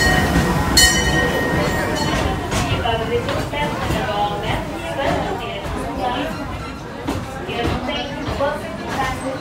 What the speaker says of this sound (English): But we're gonna go ride the train.